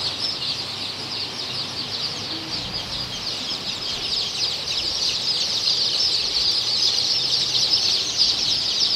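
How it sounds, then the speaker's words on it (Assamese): Many small local chicken chicks peep constantly at a poultry farm in Barpeta, Assam, in a dense, high-pitched chorus that stays close and steady, growing slightly louder toward the end. "এইটো অৰিজিনাল লোকেল মুৰ্গীৰ পোৱালি হয়।"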